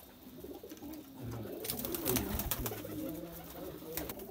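Domestic pigeons at a loft in Bakshi Nagar, Jammu and Kashmir, coo softly in a low, steady murmur, joined by scattered bird calls and brief rustling bursts, with no talk.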